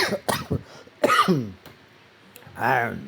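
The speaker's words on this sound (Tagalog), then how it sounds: "So inuubo pa rin tayo guys hanggang ngayon" A few throaty coughs and throat clearing up close, in short bursts separated by quiet pauses.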